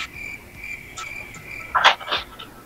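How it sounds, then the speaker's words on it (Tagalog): Several short bursts of cricket chirping, steady high trills with a couple of louder, closer chirps near the end, no voices. "Bakit ho bigla hong nagising yung mga kuliglig."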